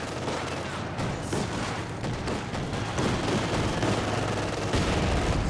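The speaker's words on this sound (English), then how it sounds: "Big mortar shell, though." Mortar shells and gunfire in a Company of Heroes 2 multiplayer battle make a dense, continuous barrage of explosive cracks and rattling shots, loud and unbroken throughout.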